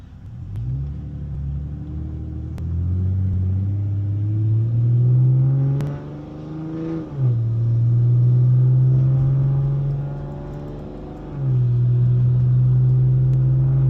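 A car engine fitted with a 6870 turbo pulls through the gears from inside the cabin, a deep loud drone rising in pitch, dropping at each shift and climbing again, with a turbo whine over it.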